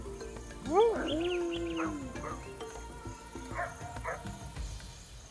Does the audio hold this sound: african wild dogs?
yes